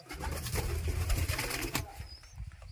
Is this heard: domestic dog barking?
no